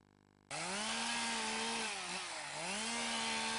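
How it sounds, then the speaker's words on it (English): A chainsaw carves an ice sculpture of a polar bear, starting abruptly and then running loud and steady, its engine pitch dipping briefly under load before rising again. "This polar bear wasn't going to be staying very long, if the chainsaw and the warm British weather had anything to do with it"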